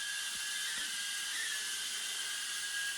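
A tiny Snaptain SP350 drone hovers indoors in a garage office, its propellers giving a constant thin, high-pitched whine that stays even and fairly faint throughout.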